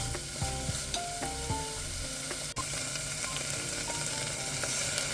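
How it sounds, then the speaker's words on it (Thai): Southern Thai curry paste is stir-fried in a little vegetable oil in a pan, a loud continuous sizzle with repeated scraping strokes of a spatula and no voices. "ใส่เครื่องแกงไปหมดเลยนะคะ ผัดให้หอมนะคะทุกคน"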